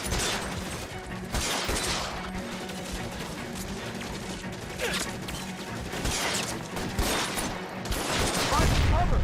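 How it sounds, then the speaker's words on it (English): Sustained covering gunfire from a shootout in the 1940s Los Angeles crime game LA Noire: dense, continuous volleys of shots and crashes that keep up steadily throughout and swell louder near the end. "Lay down some covering fire."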